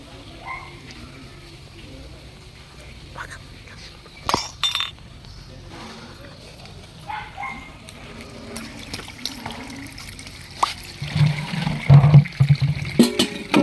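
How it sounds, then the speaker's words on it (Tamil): Fish being washed in water for village cooking, with scattered splashes, clinks and trickling sounds, sparse at first and busier toward the end, while people talk nearby. "இப்போ வந்து பார்த்தீங்கன்னா எங்கள் அப்பா மீன் கழுவ போகிறாரு"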